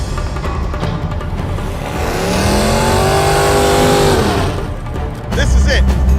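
Nitrous-equipped Mazda mini truck purging and revving, a loud engine note rising and holding for a couple of seconds before easing off, with people talking over it.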